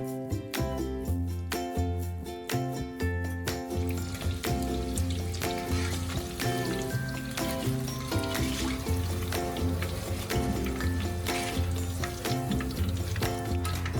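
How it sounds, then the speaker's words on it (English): Battered shrimp deep frying in hot oil give a steady broadband sizzle that runs the whole time beneath loud, rhythmic background music. "We're just cooking the batter, and then we're gonna make it crunchier on our second frying with much hotter oil."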